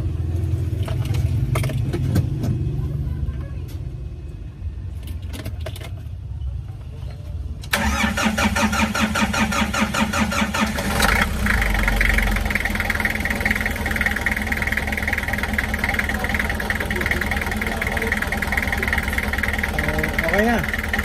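A Nissan Urvan van's TD27 diesel engine, which has an overheating problem, cranks and then catches at about eight seconds. It settles into a loud, steady, clattering idle that carries on to the end, with people talking now and then over it.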